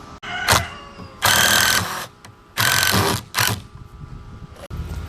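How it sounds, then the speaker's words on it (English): A drill bores pilot holes and drives screws into a wooden frame for a farm-style end table, with two long loud bursts, a couple of shorter ones and quieter mechanical whir between. "we'll go ahead and drill these pilot holes out, shoot some screws, and join this together"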